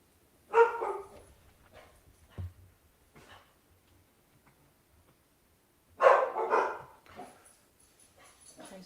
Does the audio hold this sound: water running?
no